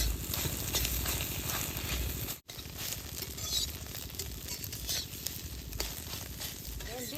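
Eggs frying in oil in a pan while cooking kochu shak, a steady close sizzle and crackle that runs throughout, with a brief dropout midway and a low rhythmic backing underneath.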